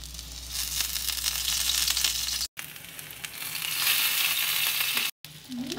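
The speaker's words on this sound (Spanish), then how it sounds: "Agregamos el guasóncle al huevo. Lo agregamos a freír." Egg-battered huauzontle bundles fry in a pan of oil, giving a steady, dense sizzle that runs almost throughout, broken by two brief silent gaps.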